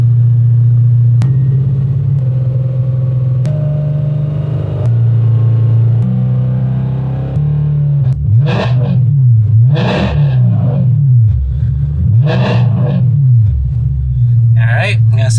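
A car engine with a VF Engineering supercharger, tuned for E85 fuel, idles roughly, then is revved hard several times in sharp bursts, each climbing and falling back, loud and close.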